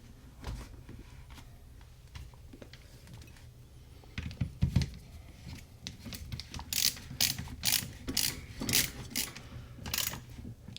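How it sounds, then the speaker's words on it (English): Ratchet driving the rear action screw of a Ruger American .270 Win into a Boyds At-One Thumbhole stock, starting with quiet fiddling and then a run of crisp, evenly spaced clicks close by. "Here is the rear action screw."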